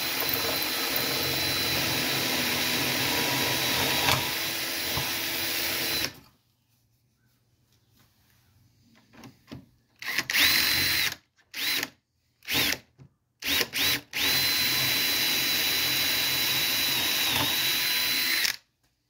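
A power drill whines steadily into wood, stops, then starts again in several short bursts before running continuously once more, loud and close.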